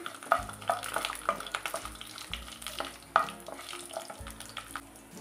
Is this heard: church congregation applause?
no